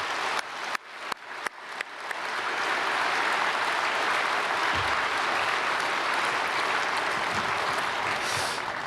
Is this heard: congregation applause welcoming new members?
yes